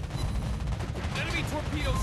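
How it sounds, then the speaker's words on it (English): Naval guns of the Almirante Grau cruiser fire armor-piercing shells at a Belfast 43 in World of Warships Blitz, a dense run of booming salvos layered over constant battle noise and ship engine rumble, with a voice speaking over it. "Right now I'm firing at this Belfast 43 using AP because it is a lightly armored target"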